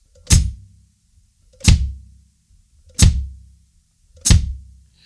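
Four evenly spaced hits of kick drum and hi-hat played together, each a low thump paired with a bright cymbal tick landing together, with clear silence between them.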